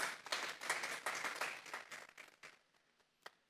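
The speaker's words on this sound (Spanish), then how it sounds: "Vamos a darle un fuerte aplauso pues al Señor." A congregation applauds during a Sunday church service, a burst of clapping that fades over a few seconds into a few scattered claps.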